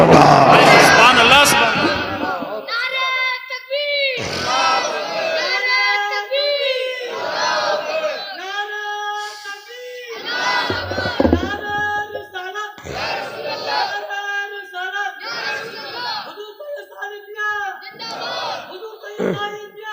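Crowd at a religious speech by a maulana shouting back in loud chorus after the Nara-e-Takbir call, swelling bursts of many voices repeating between the speaker's lines.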